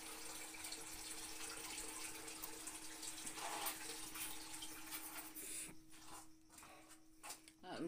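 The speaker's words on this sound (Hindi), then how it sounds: "खुला पानी डाल दिए अच्छी तरह" Water runs and splashes steadily into a wide cooking pot, a continuous pouring rush that thins and breaks up toward the end.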